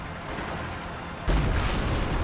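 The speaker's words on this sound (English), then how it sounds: "B4 firing again." A B4 howitzer fires in a video game, one heavy, deep boom that cuts in abruptly over steady background battle noise.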